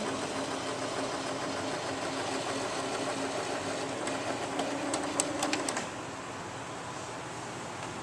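Sewing machine winding thread onto a bobbin, a steady close mechanical whir with a low hum that runs for several seconds and then drops in pitch and level near the end as the winding slows.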